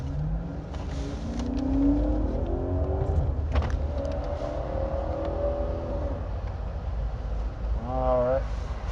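A car rolls slowly through a highway toll booth, its engine rumbling steadily with a short whine near the end, while people talk inside the car over the road noise.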